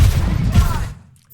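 Tracer's guns firing in Overwatch, a loud dense burst of rapid gunfire in the foreground that ends abruptly and drops to near silence.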